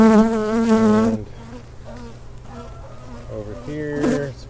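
Honeybees hum around an opened hive during a frame-by-frame inspection, a close droning buzz that rises and fades, with quieter stretches of buzzing between louder passes.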